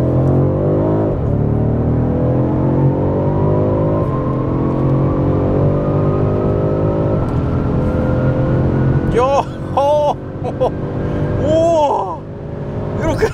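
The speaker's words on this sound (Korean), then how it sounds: "이 M550i 모델, 이 차량까지 3개의 모델 저 터널 구간 가속 성능을 비교를 해보도록 하겠습니다" A BMW M550i xDrive M Performance accelerating hard through a tunnel, its engine note rising steadily in pitch with loud, echoing rumble, then gear changes toward the end as a voice reacts over it.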